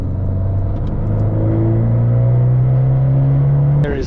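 An Abarth 595 Turismo's exhaust drones steadily as the car accelerates, its engine note climbing smoothly in pitch for about four seconds before a gear change cuts it off, loud and close from inside the cabin.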